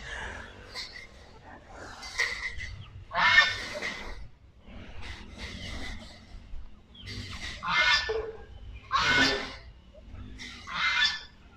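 Geese on a chicken farm in Cambodia honk in loud, raspy bursts repeating every second or two, close by, with quieter grunting between calls and no speech.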